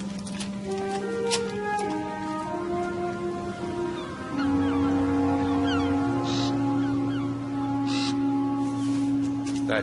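Raven cawing in an animated World War I adventure scene, harsh calls over a musical score and soft rain-like hiss, with no talking.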